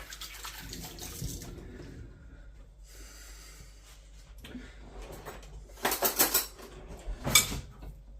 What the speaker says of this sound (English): So I'll just use a spoon because I want it all covered with some flour.